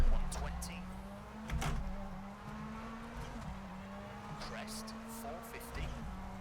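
Rally car engine in the EA WRC game, a steady droning tone that rises in pitch and then drops sharply at gear shifts, with tyre noise beneath.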